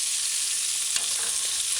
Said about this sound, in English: kind of flip the beef chunks to the side that's not frying